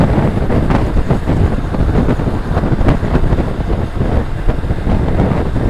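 Steady wind rush buffets the microphone on an early-morning motorbike ride on the road from Dhaka toward Feni and Bandarban, a dense continuous roar at close range with no talk.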